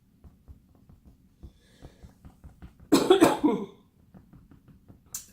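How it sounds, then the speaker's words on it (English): A burst of harsh coughing, several quick coughs in a row, close and loud, after a stretch of quiet scratching and tapping. "Sorry for all the coughing."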